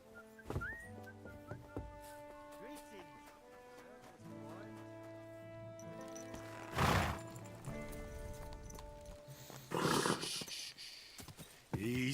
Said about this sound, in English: Easy, good horse. It's a good horse.